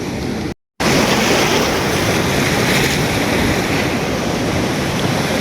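Loud, continuous roar of heavy surf and rushing water at night at Punta Nasugbu, with wind buffeting the microphone, broken by a brief dropout near the start.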